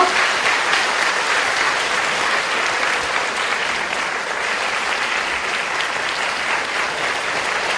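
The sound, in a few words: audience applause welcoming performers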